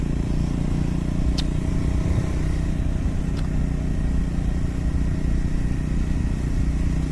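Triumph Scrambler 400X motorcycle riding along a mountain road beside a lake, a steady close engine drone with wind rumble throughout and no talk.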